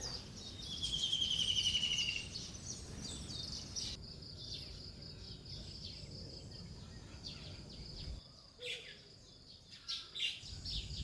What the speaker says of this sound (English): Here are some of the 12 different species of birds I see pecking termites from the gravel this morning